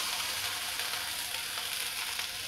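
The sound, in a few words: water sprinkled on hot griddle sizzling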